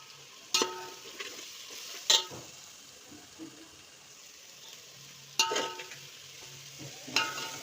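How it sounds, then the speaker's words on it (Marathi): Thinly sliced onion fries gently over a low flame in a pan, a soft faint sizzle broken by a few sharp scrapes and clinks of a spoon stirring against the metal. "कांदा एक पातळ उभे काप केलेले आहेत याला सोनेरी रंग येईपर्यंत आपण मंद आचेवर भाजून घेऊयात"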